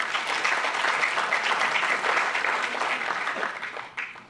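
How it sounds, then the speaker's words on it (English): An audience claps steadily for Vice President Amos Elad at the inaugural ceremony of a human rights institute. The dense, even applause holds for about four seconds, then fades out. "I think he deserves your applause as well."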